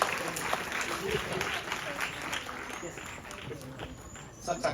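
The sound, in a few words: audience applause welcoming the chief guest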